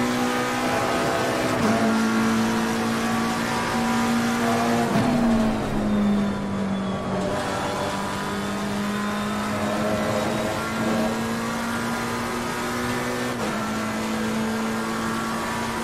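Race car engine in Assetto Corsa Competizione during a multiclass practice session at Silverstone: a steady, loud motor drone rich in harmonics, its pitch dipping and rising slightly with shifts and throttle changes, with no talking.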